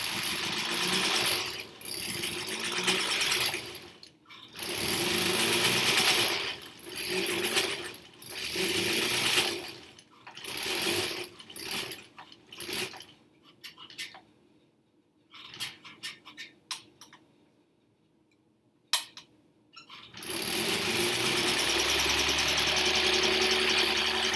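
Sewing machine stitching a foundation paper pieced quilt block, a busy mechanical whirring run in bursts that stop and restart, with a quiet gap near the end before a steady final run.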